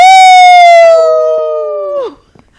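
A person imitates a wolf howl with one loud, long, sustained 'ow' that slides gently downward and cuts off sharply after about two seconds, heard alone and close.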